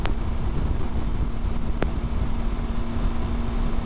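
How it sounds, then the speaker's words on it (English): Steady wind buffets a microphone, a constant rushing roar with a couple of sharp brief knocks, no one talking. "It's quite windy."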